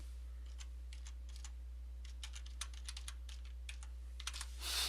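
A password being typed on a computer keyboard: a run of soft, close key clicks at an uneven pace over a constant low hum, ending in a brief louder rustle.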